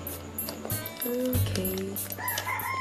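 A rooster crows among a flock of chickens, with clucking and squawks overlapping in a busy barnyard chorus at moderate distance.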